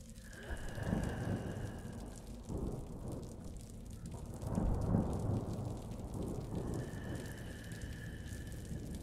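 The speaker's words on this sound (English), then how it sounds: "Oh, it's raining." Steady rain falls with deep rolls of thunder in the candle-themed video game Flicker of Hope, a continuous wash of rain under two or three low rumbling swells; no voices.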